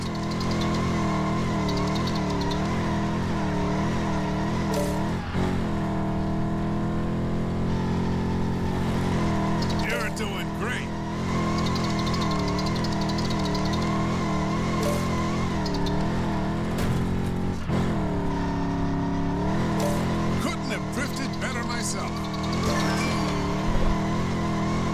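A LEGO 2K Drive car on PlayStation 5 drifting, its engine droning loud and steady with rising and falling revs and tire squeal, held for a long stretch without talk.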